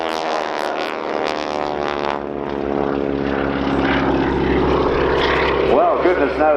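Propeller aircraft of the Breitling Wingwalkers flying a display at Dunsfold Wings & Wheels 2014, a loud steady engine drone with shifting pitch as it passes, while a commentator talks over it.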